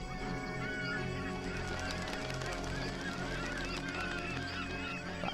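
A flock of seagulls calls over a creek at night in an audio-drama effect, with many overlapping honking, squawking cries in a busy chorus at moderate level and no talk.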